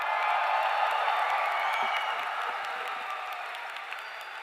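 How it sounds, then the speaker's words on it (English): A high school commencement crowd cheers and applauds in a big hall, a broad, sustained wash of clapping with scattered whoops that slowly fades. "can we give them all a cheer while they sit there?"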